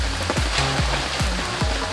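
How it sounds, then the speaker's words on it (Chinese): Heavy downpour drumming on a camp rain tarp stretched over a wilderness shelter, a dense, steady roar of rain that fills the whole two seconds without pause. "此时外边突然倾盆大雨"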